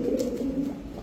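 Fancy pigeons, including male and female birds of show breeds, coo in a low continuous murmur close by, with a steady throaty hum and no talk.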